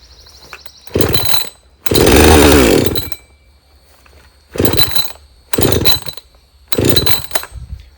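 A Husqvarna 562XP chainsaw with carburetor trouble, close and loud, revving in five separate bursts, one long and four short, with faint idle between.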